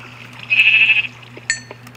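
A Minecraft sheep lets out a short, high bleat, followed by a brief second blip, over a low steady game hum.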